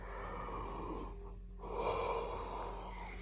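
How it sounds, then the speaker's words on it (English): A long, slow drawn-in breath that swells and releases like a yawn, soft and close over a steady low background hum. "I'm so sorry about these yawns."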